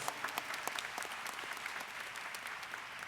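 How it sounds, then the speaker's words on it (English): A hall audience at a public meeting claps steadily, a dense, even burst of applause heard from within the crowd for a few seconds. "That deserves a round of applause."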